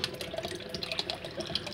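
Water trickles and drips steadily out of a paper-lined basket as wet silver-recovery sludge drains, a continuous close splashing patter with no voices.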